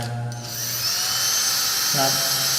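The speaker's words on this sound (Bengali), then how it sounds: "মেশিন দিয়ে টাইট দিচ্ছি" A power drill machine tightening screws in an MDB electrical box, a high whirring motor that starts, winds up to a steady whine and briefly bogs down near the end, close and loud.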